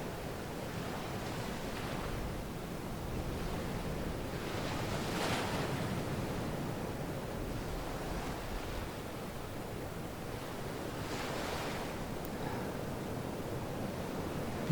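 Ocean waves breaking on a shore in slow swells, each surge rising to a hissing crash and then easing back, steady and fairly soft, with wind-like noise between breakers and no voices.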